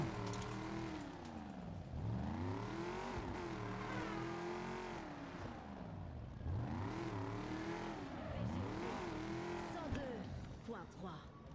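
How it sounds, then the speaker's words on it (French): Car engine revving in the Lego Batman video game, sweeping up and down in repeated loud surges with tire noise, heard close with no talk over it. "On fait bondir le moteur."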